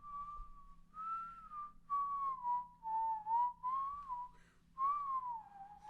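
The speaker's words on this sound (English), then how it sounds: "I just started whistling." A person whistles a wandering, melodic tune alone, clear and close, with soft breathy gaps between phrases.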